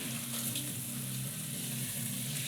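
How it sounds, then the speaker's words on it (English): Bacon sizzles quietly in a frying pan, a faint, continuous crackling hiss with a low hum underneath, no voices. "I'm gonna take an opportunity right now to flip over this bacon."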